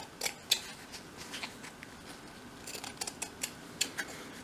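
Small scissors trimming the sides of a 1/12 scale dolls house overnight bag, a series of faint crisp snips and clicks at an irregular pace, close up and quiet.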